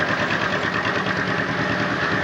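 A vintage tractor engine idles steadily at a 1996 Gibson show, a close, even mechanical chug with dense low rumble and no talk over it.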